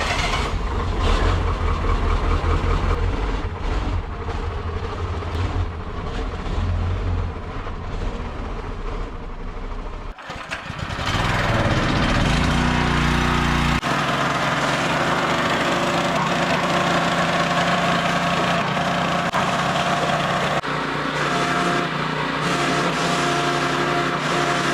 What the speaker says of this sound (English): We're going to get out the power washer, and I'm going to power wash the engine again